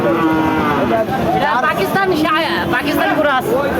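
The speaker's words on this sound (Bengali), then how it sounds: "আপনারা দেখতে পাচ্ছেন এইদিকে আরেকটা গরু, কালো গরু" A black Pakistani-breed cow moos at a cattle market, a long drawn-out low bellow that rises and wavers, heard up close over steady crowd murmur.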